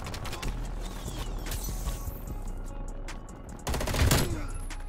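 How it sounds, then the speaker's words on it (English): Automated sentry gun in Call of Duty Cold War firing a rapid stream of shots at mid distance, continuous crackle with a louder burst near the end. "That is definitely a sentry gun."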